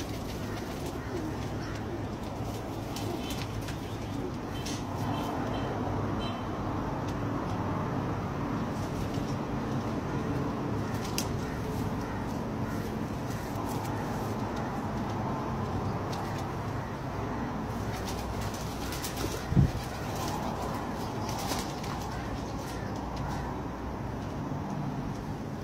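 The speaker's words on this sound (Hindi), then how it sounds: "माशाल्लाह बहुत ही अच्छा कबूतर है जनाब" Teddy pigeons cooing softly in a steady low drone at a home loft, continuous and moderately close under a faint background hum.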